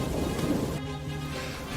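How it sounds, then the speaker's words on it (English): Steady rain falls with a low rumble of thunder rolling underneath, a continuous stormy wash with no voices. "it's been raining since early morning"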